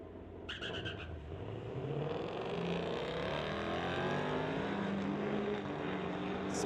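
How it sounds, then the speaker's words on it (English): A GMC truck and a 1999 Camaro launch side by side at a street-legal drag race, engines roaring and rising in pitch through the gears. The sound is loud and continuous, with no voices. "GMC truck on the spectator side going against Tony in his 1999 Camaro."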